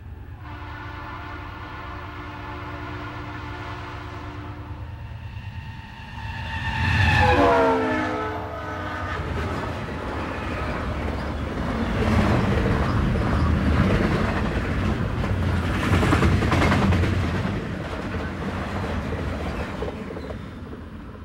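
A Los Angeles to Chicago double-stack freight train rounds a curve near Willow Springs Road. A steady diesel rumble swells as the horn blasts, then heavy wheel and car noise rolls past close by, with no talking.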